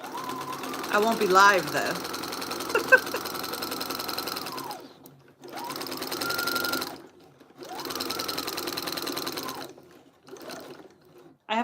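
A sewing machine stitches fabric for diamond art in three long bursts of rapid mechanical whirring, separated by short pauses, close and clear, with someone speaking briefly near the start.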